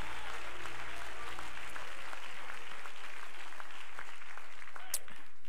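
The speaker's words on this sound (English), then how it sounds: "Would you clap your hands to Jesus right now?" A church congregation claps loudly and continuously, dense applause filling the room throughout, with faint voices mixed in.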